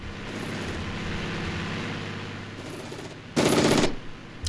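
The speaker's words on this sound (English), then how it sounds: "Love the sound of that machine gun." Sustained rapid rattle of a 7.62 mm Coax MG3 machine gun in the Armored Brigade war game, with rumbling vehicle noise beneath and a sharp, louder burst near the end.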